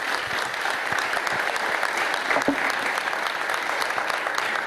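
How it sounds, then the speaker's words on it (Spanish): A conference audience at an inspirational talks event applauds a speaker named Manuel, steady dense clapping filling the room from start to finish, with one slightly louder burst partway through. "Agradecemos con un aplauso a Manuel."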